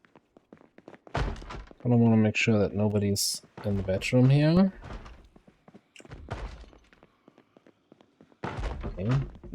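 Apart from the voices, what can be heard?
zombies banging on a door, from video game Project Zomboid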